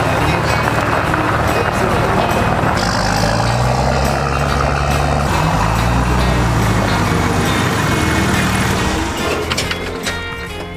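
A Nissan GQ Patrol four-wheel drive fitted with a rooftop tent and a suspension lift drives out, giving a loud, steady engine and driveline rumble with heavy low-end roar throughout. Muffled voices sit under the engine, which fades slightly at the end.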